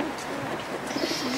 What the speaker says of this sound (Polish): ile mamy tutaj tych gołębi zakoszowanych